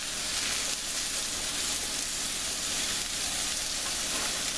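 Shredded cabbage frying in a hot pan for tofu tamago yakisoba, a loud, even sizzle and hiss that carries steadily throughout without pause.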